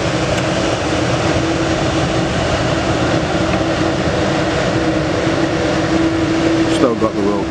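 A Qatar Airways airliner at Manchester Airport produces a loud, steady engine roar with a sustained whine as it begins its takeoff, filling the whole stretch at close-to-mid distance.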